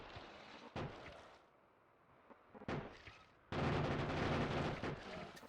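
Bullet gunfire shooting enemies in Factorio, short bursts with gaps, then a sustained loud volley of shots and impacts near the end.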